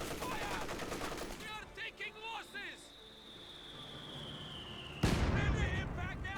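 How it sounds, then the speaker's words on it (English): Mortar shells land in a Company of Heroes 2 battle, a heavy booming impact crashing in loudly after a stretch of chattering radio voices and a rising whistle. "Excellent mortar hits."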